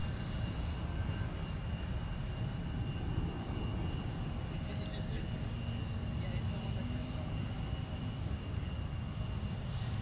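A Delta airliner rolls for takeoff on runway 17 at Minneapolis–Saint Paul airport, a steady broadband engine roar sustained throughout with a faint tonal hum, under a continuous voice talking.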